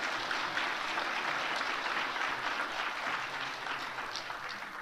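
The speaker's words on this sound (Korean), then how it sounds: "큰 박수로 축하하겠습니다." A church congregation bursts into warm applause, a dense, even wash of clapping that continues steadily throughout at moderate loudness.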